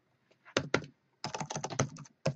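Quick bursts of typing on a computer keyboard while working in CAD software: soft, close key clicks in a short flurry, a pause, then a longer rapid run and a final tap.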